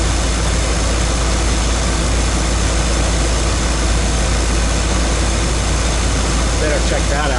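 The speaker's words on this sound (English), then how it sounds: "It's a Cummins exhaust tip with a 3-inch Thrush muffler. Actually makes my 350 sound a little bigger than it is." A 1990 GMC 350 V8, swapped in and warming up, idles through a Cummins exhaust tip and a 3-inch Thrush muffler, giving a loud, steady, close low rumble that continues throughout.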